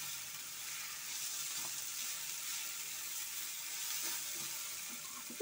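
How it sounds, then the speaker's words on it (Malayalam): Sweet mango curry sizzles steadily in a pan while it is stirred, giving a soft, even hiss with faint scraping and no voices. "ഇതാദ്യം ഒന്ന് നമുക്ക് എല്ലാം ഇളക്കി യോജിപ്പിച്ച് കൊടുക്കാം."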